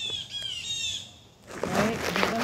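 Geese call near a property in a run of harsh, squawking honks for over a second, followed by a louder, rougher burst of overlapping calls and flapping-like noise.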